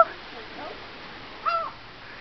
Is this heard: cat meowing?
no